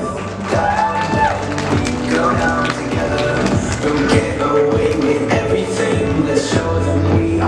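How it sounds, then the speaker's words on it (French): Audience applause for contestant number two, Anaïs, in a French game show: a continuous wash of claps that runs alongside music and some talking. "On applaudit très fort la candidate numéro 2"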